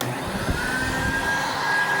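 An Electrolux 1451 vacuum cleaner runs loudly and close, a steady roaring whine with a high tonal pitch holding throughout.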